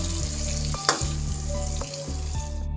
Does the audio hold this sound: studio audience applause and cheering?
no